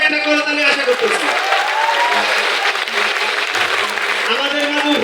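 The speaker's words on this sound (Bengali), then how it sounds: "তার জন্য জোরে একটা করতালি আশা করতেছি" A large crowd at a corporate meet-up event in Cox's Bazar claps loudly and continuously for a guest, with a voice talking over the dense applause throughout.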